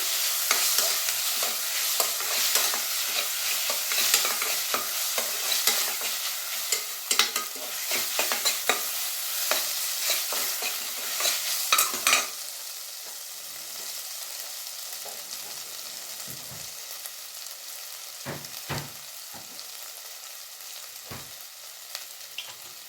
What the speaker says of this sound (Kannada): ಶುಂಠಿ ಬೆಳ್ಳುಳ್ಳಿ ಪೇಸ್ಟ್ ಈ ರೀತಿ ಸಪ್ರೇಟಾಗಿತ್ತು ಅಂದರೆ ನೀವು ಈ ರೀತಿ ಎಣ್ಣೆನಲ್ಲೇ ಹಾಕಿ ಫ್ರೈ ಮಾಡ್ಕೋಬೋದು